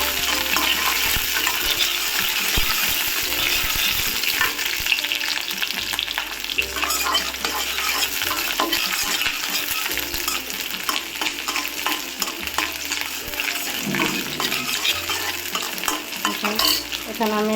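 Garlic cloves fry for a Bengali green banana mash (kachkolar vorta), giving a continuous loud oil sizzle broken by repeated scraping and clinking stirs of a utensil against the pan, with no voices.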